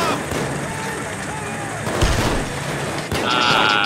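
A heavy boom from an explosion in the video game Payday 2, with a rumbling low thud, amid game sound effects and a burst of bright noise.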